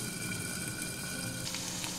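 Potato pieces fry in a pan with a continuous soft crackling sizzle and a faint stir near the end, quiet and steady with no voices.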